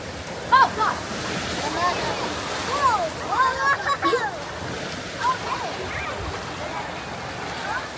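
Ocean waves wash onto the shore at La Jolla Cove, San Diego, with a steady surf roar and wind buffeting, while people talk and call out over it.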